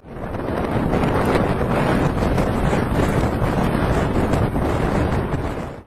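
Strong wind roars steadily through snowy high mountains with deep snow and poor visibility, a loud, continuous buffeting rush that blasts against the microphone for the whole stretch with no voices.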